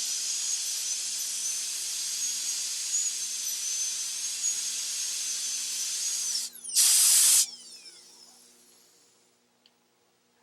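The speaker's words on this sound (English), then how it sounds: "the operator re-enters the burr and prepares the extension to the proximal surface" A high-pitched dental burr whines steadily while cutting a Class II mesio-occlusal cavity preparation for amalgam in a tooth, then gives a brief louder burst before winding down and fading to quiet.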